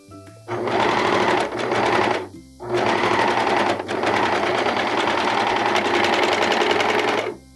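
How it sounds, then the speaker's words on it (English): A serger runs in three long, steady bursts of fast mechanical stitching on bralette fabric, loud and close, separated by brief pauses. "I need to make sure that I catch all that when I'm serging"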